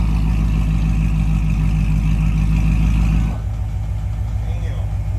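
A Shelby GT350 fitted with a Corsa Extreme exhaust, valves closed, holding a loud, deep engine drone that then drops to a lower rumble.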